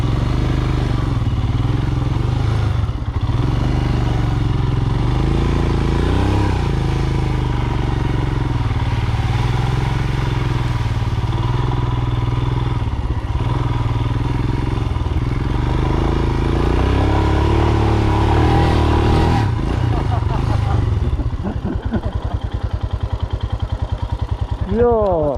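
A Royal Enfield Himalayan dual-sport motorcycle rides a muddy trail, its engine close and loud and rising and falling with the throttle, and it thumps and clatters over rough ground until a final rev near the end.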